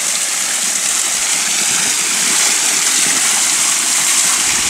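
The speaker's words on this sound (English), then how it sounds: "there's also a nice little waterfall" A small waterfall spills into a gully in the northeast Victorian bush of Australia, giving a steady, full rush of falling water close by, unbroken and with no talk.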